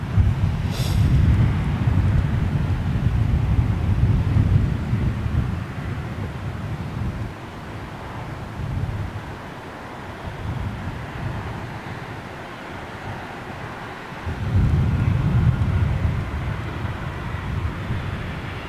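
A heavy Boeing 777 on approach into London rumbles low and steady, swelling loud, easing off in the middle, then building again near the end, with wind buffeting the microphone.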